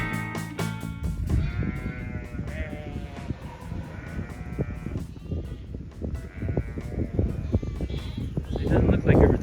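A flock of hair sheep, over 300 head, bleats repeatedly and loudly, with several overlapping calls close by and further off across nearly ten seconds of pasture sound.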